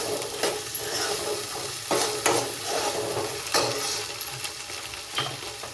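Egg rice ingredients are stirred and mixed in a sizzling pan, a spoon scraping and clacking against the metal in irregular strokes over a steady close-up frying hiss, with no voices.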